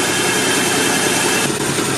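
A Zajac engine runs steadily after a cold start, a loud, continuous roar with a faint constant whine and no breaks.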